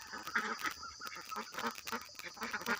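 Ducks quack and honk in a busy cluster, repeated calls overlapping throughout, fairly close with a steady outdoor background.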